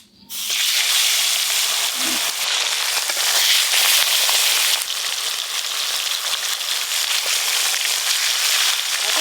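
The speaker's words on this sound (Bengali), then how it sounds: "এবার এই খয়রা মাছগুলো একই রকম ভাবে ভেজে নেব।" Khoira fish frying in hot oil in a pan, a loud, dense crackling sizzle that starts abruptly and carries on steadily for several seconds with no voices.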